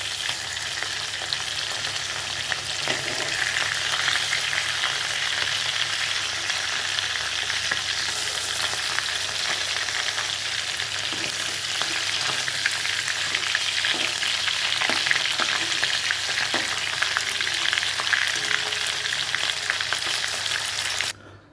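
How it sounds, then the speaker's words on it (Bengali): Fish sizzles and crackles in hot oil in a frying pan, a dense, steady frying hiss with scattered pops that continues close and unbroken throughout before cutting off at the end. "মাছ ভাজা হচ্ছে"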